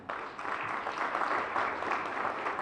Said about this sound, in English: A round of applause for our team.